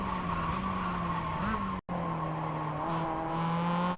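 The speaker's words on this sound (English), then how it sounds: "You want to go hard on the brakes and shift all the way down into first gear again." Mazda MX-5 in iRacing at Circuit de Ledenon gives a steady, fairly loud engine tone that briefly rises, cuts out for an instant, then resumes lower and holds through the rest.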